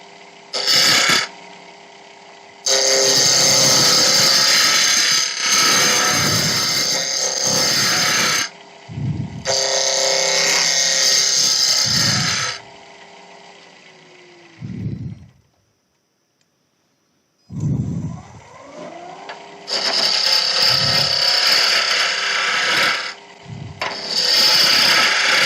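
A large 1¼-inch Henry Taylor spindle gouge cuts wood on a lathe, making a keyring. Scraping, hissing bursts come over the steady hum of the lathe, with a brief quiet stop midway before cutting resumes.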